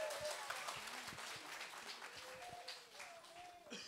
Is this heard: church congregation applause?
yes